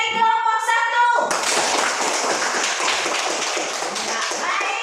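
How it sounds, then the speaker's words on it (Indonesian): A classroom of students breaks into brisk, dense clapping for a classmate, loud and close, continuing steadily after a brief spoken voice at the start. "Tepuk tangan untuk Fadil dari kelompok 1."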